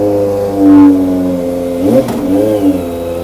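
A Kawasaki ZX25r inline-four motorcycle idles close by with a steady harmonic hum, then rises in a couple of short revs before settling back down.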